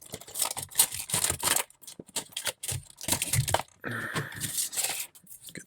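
Scissors snip through diecast car packaging, giving a series of close, crisp cuts and plastic crinkles in an irregular rhythm, with no voices.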